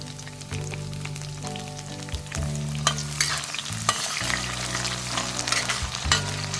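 Garlic and curry leaves frying in hot oil for a mango-ginger pickle, a loud crackling sizzle with repeated stirring scrapes and clinks throughout, close and continuous.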